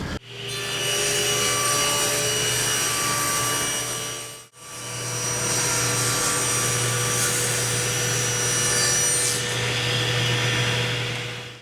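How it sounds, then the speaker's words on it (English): A table saw rips white oak strips, its motor whining loudly as the blade chews through wood in two long continuous cuts separated by a short pause, close and steady without speech. "rip off some strips about 2 1/4, 2 1/2 inch on each side"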